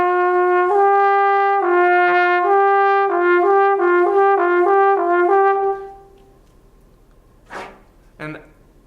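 A trombone plays a slide-shift exercise moving from F in first position up to a high G, a series of sustained and repeated notes for about six seconds, then quiet with two faint breaths or small noises.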